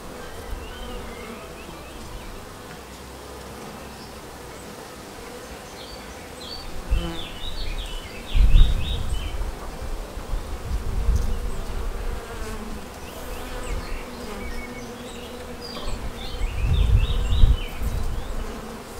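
Honeybees buzzing around an open top-bar hive as it is being closed, a continuous close drone that swells and fades as individual bees pass near, with occasional soft handling knocks.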